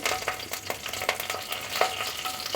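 A bay leaf and dried chillies fry in mustard oil in a pan, giving a soft, crackling sizzle broken by quick scraping stirs and small pops, fairly quiet and without talking.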